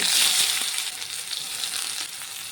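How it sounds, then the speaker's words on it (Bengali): Chopped onions fry in hot oil with spices such as dried chillies and bay leaves, giving a steady, close hiss and crackle that fades slightly over the few seconds. "এখন দিয়ে দেবো দুটো পেঁয়াজ কুচি"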